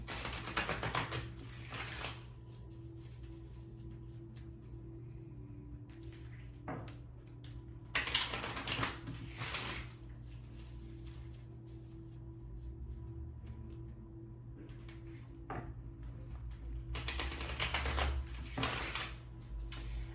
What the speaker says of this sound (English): I'm gonna shuffle, so if you have headphones on or if you're sensitive to noise, cover your ears now